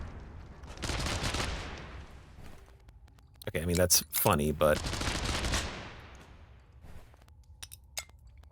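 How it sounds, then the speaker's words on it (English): In the video game Untitled Pixel Simulator, a rocket launcher fires with a double explosion, sharp crackling bursts in quick succession followed by rumbling decay. Someone talks over and after the blasts. "Double explosion rocket launcher."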